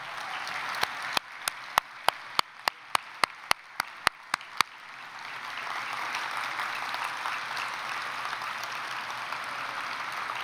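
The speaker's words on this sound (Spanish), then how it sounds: "Yo creo que merece un aplauso mucho más fuerte que eso. Por favor, de pie todos." A packed conference crowd of about 3,500 claps, first with a run of evenly spaced loud rhythmic claps in unison, then swelling into a broad, rolling ovation as people stand.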